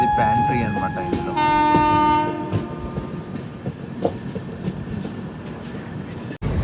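Secunderabad–Danapur express with blue coaches passing close by, a loud steady rumble of wheels and clatter with a horn-like tone early on, continuing throughout.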